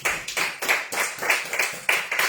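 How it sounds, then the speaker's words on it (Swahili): A church congregation claps to praise Jesus, about a dozen loud, even, rhythmic claps in quick succession, close and with no talk over them. "Tupigie Yesu makofi"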